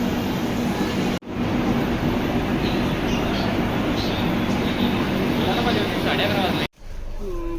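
Loud, continuous rumble and rattle of a moving passenger train heard from inside, broken by two abrupt cuts, with faint voices at the end.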